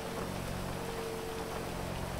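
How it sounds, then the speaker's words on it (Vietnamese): Heavy rain falls in the video game GTA 5, a steady, even hiss of downpour with no gaps, fairly quiet and with no voices over it. "xuống mưa lớn quá"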